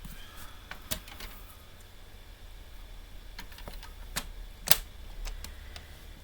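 A paper trimmer slices through cardstock in a few short, crisp clicks and one sharper cutting snap, close up and faint, in an otherwise quiet room.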